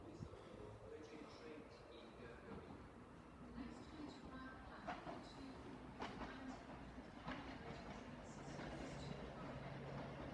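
A Class 221 Virgin train pulls into platform 2 at Rhyl station with a low rumble and rail clatter, brakes squealing faintly, while people talk nearby.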